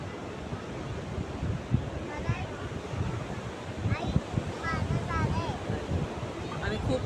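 Steady wind gusts buffet the microphone at Madban beach near Rajapur, mixed with a continuous surf roar and faint distant voices.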